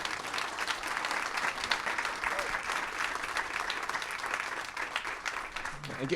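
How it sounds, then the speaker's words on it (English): Conference audience applauds in a steady, dense wash of clapping that holds evenly throughout, with a faint voice surfacing near the end. "Can you give them a big round of applause for being here?"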